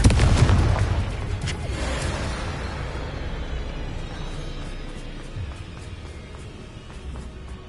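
Rapid blasting-spell explosions in Hogwarts Legacy, a loud heavy boom up front followed by a rumbling, crackling wash of smaller bursts and debris that fades over several seconds.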